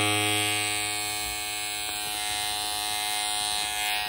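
An electric carving tool buzzes steadily while trimming the edges of a tufted rug, a close, continuous motor whine with slight shifts in pitch as it moves along the pile.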